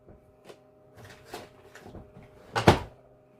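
A drawer being handled during household spring cleaning: a series of light knocks and scrapes builds to one louder sliding clunk near the end, heard close and alone.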